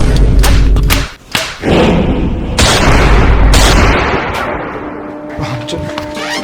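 Staged gunshots in a Bhojpuri comedy sketch land as a run of loud, sharp bangs and heavy thuds, with one big booming burst near the middle, before the sound fades off.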